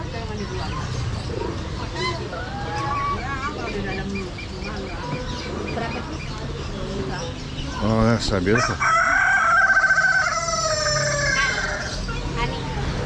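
Chickens and doves at a crowded animal market in Bali give steady clucking and calls, with a rooster-like crow rising partway through, all set against a loud, busy background while a person speaks briefly nearby.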